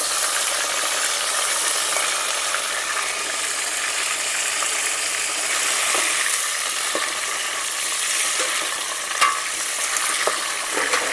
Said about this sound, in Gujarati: તળાઈ ગયા છે રીંગણા, એવી રીતના તળી નાખવાના છે પહેલાં રીંગણા